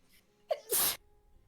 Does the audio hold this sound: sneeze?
yes